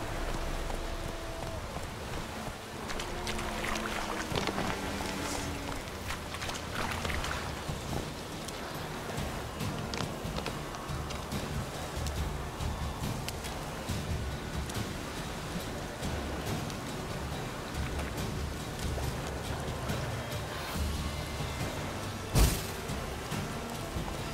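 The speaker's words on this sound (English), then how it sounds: "Raining, the wind's blowing." Steady rain and blowing wind in the video game The Witcher 3, a continuous hiss of rainfall throughout, with faint hoof-like clopping and one sharp knock near the end.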